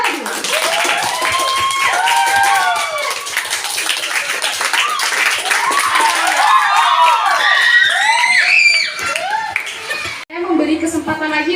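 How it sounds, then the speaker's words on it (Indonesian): Students clapping and cheering for two speakers at a junior high school event, lively and loud, with excited children's voices shouting throughout before it cuts off abruptly near the end. "Tepuk tangan untuk pembicara 1 dan pembicara 2."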